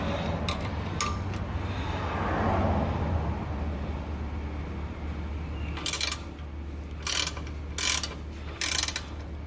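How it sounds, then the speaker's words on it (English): A ratchet tightens a nut on a metric bolt while Bilstein shocks are fitted to a Toyota FJ Cruiser; four short, close clicking bursts come near the end after a stretch of quiet workshop hum. "I got the nut threaded on there, and what I'm thinking is maybe I can just tighten it from this side"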